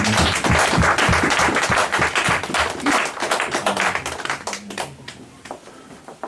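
Church congregation applauding during a service, loud sustained clapping that starts rhythmic and dense, then thins out and fades as scattered claps and murmuring voices remain.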